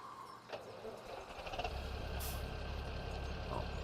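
Farm vehicle engine in Farming Simulator 17 rumbling low and steady, with a brief hiss of the air brake and faint beeping, no talk.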